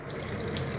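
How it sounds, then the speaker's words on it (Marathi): Water poured from a vessel onto wheat-flour chapati dough in a home kitchen: a brief, steady, close splashing wash with no voices. "मी पाणी घेते आणि पाणी टाकते"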